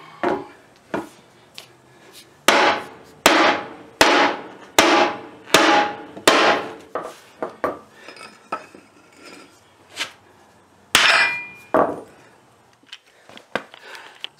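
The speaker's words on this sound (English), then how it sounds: "I had to hit it with a sledgehammer" A sledgehammer pounds a metal part of a Western Midweight poly snow plow, bending and flattening it while new cutting edges and wings are fitted; around a dozen loud, close, ringing blows come in uneven bursts, each decaying briefly, with no talking.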